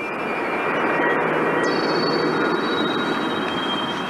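Jet airliner engines roaring steadily at close range as the aircraft prepares to take off, a broad continuous rumble and whine with a rising high tone, no voices.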